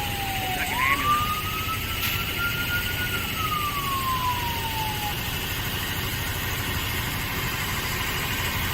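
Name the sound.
emergency vehicle siren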